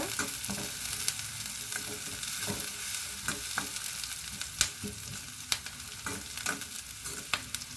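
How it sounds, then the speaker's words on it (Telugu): Eggplants deep frying in hot oil, a dense continuous crackling sizzle with frequent sharp pops and spits, close and steady throughout. "సపరేట్ సపరేట్గా వేసుకొని మనం డీప్ ఫ్రై చేసుకుంటే కొంచెం త్వరగా అయిపోద్ది"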